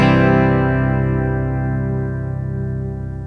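A heavily distorted guitar part doubled by a baritone guitar an octave below rings out as a thick, sustained chord, loud at first and slowly fading, with no voices.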